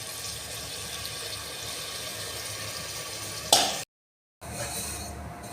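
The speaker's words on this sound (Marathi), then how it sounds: "हे असं पाणी टाकून हलवून घ्यायचं" Water is added to spiced rice in a pressure cooker and stirred, giving a steady close hiss with a sharper splash near the end. The sound then cuts to silence briefly and resumes.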